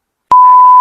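A single loud, steady censor beep starts abruptly after a brief silence and holds a pure electronic tone to the end.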